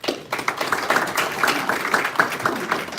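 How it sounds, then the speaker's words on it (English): Audience applause fills a city council meeting in Mulberry, Georgia, with dense, sustained clapping from a crowd that holds steady and fairly loud throughout. "Give her a round of applause."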